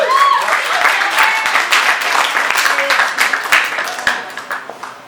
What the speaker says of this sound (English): Let's give her a big round of applause as she approaches the stage.